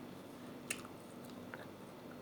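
Soft, quiet chewing of a soaked, silky Goron Tula seed: faint wet mastication with a small bite click, close to the mouth over low steady background hiss.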